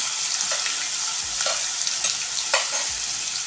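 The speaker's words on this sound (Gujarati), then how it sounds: "તો આપણે અત્યારે લસણ છે બધું તેલમાં નાખી દઈશું" Crushed garlic sizzles in hot oil for Kathiyawadi sev tameta shaak, a continuous bright hiss close by, punctuated by a few soft stirring knocks.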